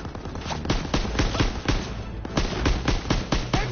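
Rapid machine gun fire in a World War II battle in Call of Duty WWII, steady bursts of sharp cracks over a dense din of distant gunfire and explosions.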